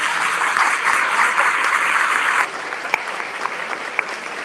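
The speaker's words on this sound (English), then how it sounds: "Give them a round of applause for coming out." An audience at a mayoral candidate forum gives steady applause that fades to a few scattered claps near the end.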